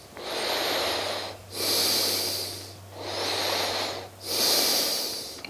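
Deep, slow breathing during a yoga twist, with two full inhale-exhale cycles of loud airy breath close to the microphone and a faint low hum underneath.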